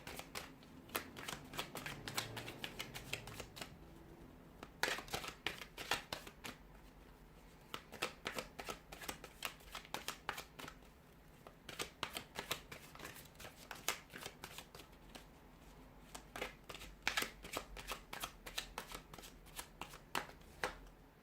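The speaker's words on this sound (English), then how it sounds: "we'll go ahead and give the cards a shuffle" Tarot cards being shuffled repeatedly at close range, with bursts of rapid riffling and flicking separated by short pauses.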